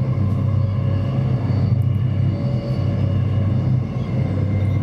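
Loud, steady low rumble inside Veolia trainset 352 while riding, with a continuous rolling drone and faint rhythmic clatter from the wheels on the rails.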